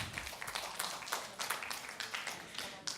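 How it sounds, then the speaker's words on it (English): Applause from an audience for participants' projects at a workshop session, a steady wash of many hands clapping at moderate distance for about three seconds. "One more round of applause for everybody's great projects"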